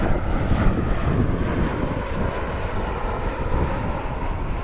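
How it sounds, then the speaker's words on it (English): Jet2 airliner arriving from Nottingham on approach to land in Lanzarote, a steady, loud broadband engine roar holding evenly throughout without any talk. "Coming into land. This one's coming in from Nottingham,"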